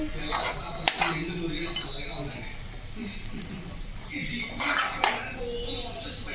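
A spoon scrapes and clinks against a pan while boiled chickpeas are stirred, soft irregular scraping with a few sharper metallic taps, close and moderately loud, with someone speaking over it.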